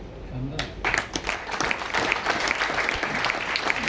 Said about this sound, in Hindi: ये आप ताली हल्की बजा रहे हो